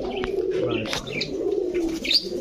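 Pakistani purebred pigeons cooing up close, with soft repeated coos and a few brief chirps.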